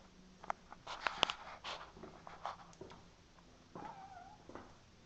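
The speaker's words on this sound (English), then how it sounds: "But this is a cat, black cat" A black cat gives a short, faint meow after some quiet rustling and scattered light taps, heard close but at low volume with no one talking.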